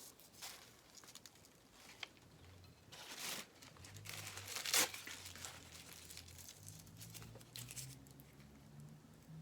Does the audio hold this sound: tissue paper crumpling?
yes